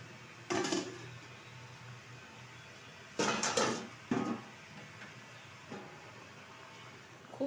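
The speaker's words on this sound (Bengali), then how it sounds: "ঢাকনাটা তুলে দিচ্ছি।" Metal pot lid lifted off a dish of doi ilish, Bengali hilsa fish in yogurt, giving a few sharp clanks and scrapes in bursts separated by quiet simmering background.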